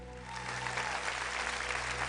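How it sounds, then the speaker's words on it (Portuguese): A church congregation claps during a worship service, a steady wash of applause over a low hum. "Você pode aplaudir ao Senhor?"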